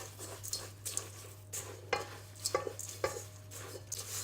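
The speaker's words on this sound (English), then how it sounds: "So use a spatula and mix the whole thing together." A spatula mixes oat bar batter with sugar, with banana and strawberry, in a bowl, giving soft repeated scraping and sticky stirring strokes with occasional light knocks against the bowl, close and quiet over a faint steady hum.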